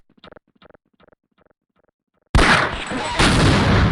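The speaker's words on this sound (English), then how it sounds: "detonating dynamite" Dynamite detonating in the shooter Half-Life: Uplink, with faint speech-like sounds at first, then a sudden huge blast that fills everything with a roaring rumble and a second surge of debris noise, loud and close.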